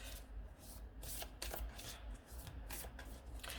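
Tarot cards being shuffled by hand, a steady run of crisp riffling and slapping bursts, close and continuous with no talking.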